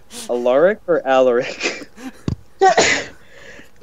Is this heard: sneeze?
yes